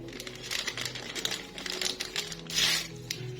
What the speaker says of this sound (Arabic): هبتدي انزل بكيس البيكنج باودر